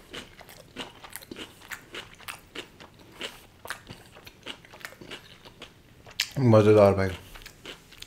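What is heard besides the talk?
biting and chewing Domino's paneer pizza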